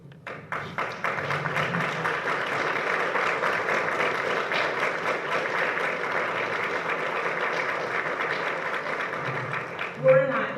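Sustained audience applause rises from a standing crowd honoring the Farm Bureau Committee at a Teacher of the Year ceremony, steady and dense for about ten seconds, with voices mixed in and a brief louder sound near the end.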